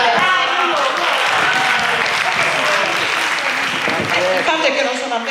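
Steady, dense applause from an audience at a live talk in Sardinia, loud and continuous for the whole stretch, with a voice speaking faintly beneath the clapping.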